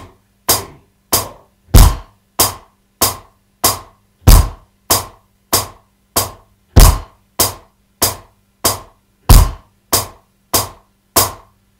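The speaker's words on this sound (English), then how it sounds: "The bass drum is a big stomp with your right foot, and that right foot is going to hit on hi-hat number one." A drum kit plays a basic rock beat: steady, evenly spaced hi-hat ticks, with a heavier bass drum thump landing on the first count of each bar. It is close, clear and alone, with no talking.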